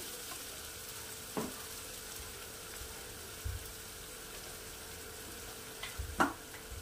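Egg masala for a Bengali egg dish sizzles steadily in a pan, a soft continuous frying hiss with a few brief louder crackles and spatters as water meets the hot paste, fairly quiet and close.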